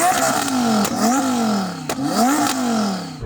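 A high-horsepower tuned supercar engine revs up and drops back several times in close succession, loud and near, each blip climbing sharply then falling, with brief clattery pops between the rises.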